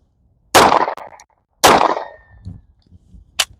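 Handgun fired with +P ammunition, never shot before: two sharp, loud shots about a second apart, each followed by a brief ringing decay, then a fainter metallic click near the end.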